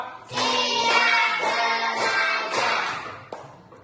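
Young children in an Indonesian classroom clap together in a counting rhythm game, with quick bursts of hand claps mixed with chanting voices, fairly loud and close.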